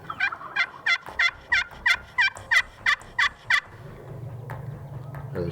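Wild turkeys gobble near hunting decoys in the early morning, a rapid series of about ten loud, close, rhythmic gobbling bursts followed by a low steady rumble.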